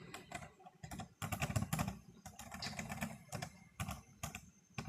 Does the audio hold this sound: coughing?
no